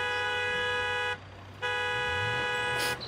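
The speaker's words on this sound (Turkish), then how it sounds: "Kornaya basıp gitti lan" A car horn in the BeamNG.drive driving game blares in two long, steady tones separated by a short gap, loud and close, with engine rumble underneath.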